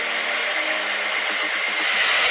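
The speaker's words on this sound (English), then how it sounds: "So we're using a blow dryer on hot heat" Steady broadband whoosh of a blow dryer on its hot setting running continuously throughout, fairly loud and close, with no talking.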